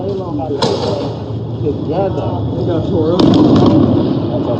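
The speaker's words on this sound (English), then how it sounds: "So they're shooting fireworks at the 5th precinct is what we saw." Fireworks are fired at a police precinct on Lake Street in Minneapolis during a street protest, with two sharp bangs, one early and one later, cracking over a constant roar of crowd noise and voices.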